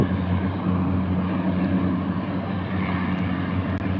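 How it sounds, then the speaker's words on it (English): Airplane at sunset near the Greenpoint, Brooklyn waterfront, heard as a steady, fairly loud engine roar with a low droning hum that holds throughout without talk. "We'll watch this plane take off."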